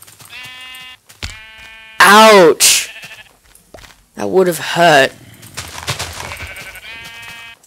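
Sheep in the Minecraft video game give several short, buzzy bleats, some close together and some spaced apart, while someone talks excitedly between and over them.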